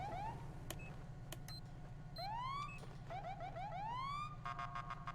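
Siren on a slick-top police car in a FiveM video game, sounding faintly as rising electronic whoops and chirps in short repeated bursts over a steady low engine hum.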